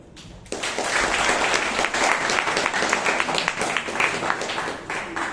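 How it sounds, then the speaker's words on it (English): Applause breaks out at a Toastmasters club meeting in Bangalore, a sudden start of many hands clapping that holds steady and fairly close, then thins slightly toward the end. "Big round of applause to our new Toastmaster"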